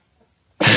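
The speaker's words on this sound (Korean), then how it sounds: "재채기가 죄송합니다." A single sharp, loud human sneeze bursts out suddenly at close range after near silence, cut off abruptly.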